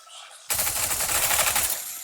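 Dense burst of rapid gunfire in a competitive video game match, starting abruptly and continuing steadily loud and close for over a second before easing slightly.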